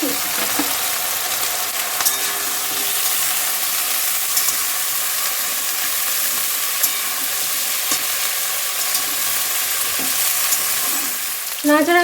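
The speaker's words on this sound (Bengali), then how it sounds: "আলুটা ভাজে ভাজা হয়ে গেছে এবার কুমড়োর ওই ডাটাগুলো তুলে দিচ্ছে" Potato and pumpkin stems sizzle and fry steadily in a hot pan for shrimp and pumpkin-greens chachchari, with continuous loud frying hiss and occasional scrapes of stirring, no talking.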